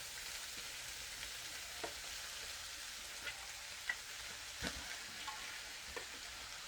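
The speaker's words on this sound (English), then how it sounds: "So I'm going to start adding the cabbage in." Cabbage tossed into an electric pan of cooked meat gives a faint, steady sizzle with a few soft stirring taps and clicks, and no talking.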